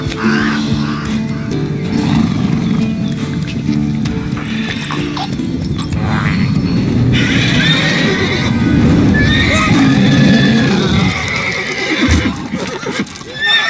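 Roach, Geralt's horse in The Witcher 3 video game, whinnies loudly and repeatedly over clip-clopping hooves, with game sounds layered behind.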